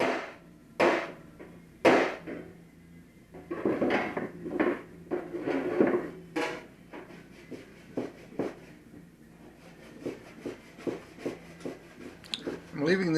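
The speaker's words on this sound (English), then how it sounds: "The purpose of the body file is not to remove the metal. I'm actually mostly just shaving away the primer sealer." A body file shaves primer sealer from a dented left rear fender on a Triumph TR250, giving close, irregular rasping strokes, some sharp and loud, others softer and quicker, with brief pauses between them.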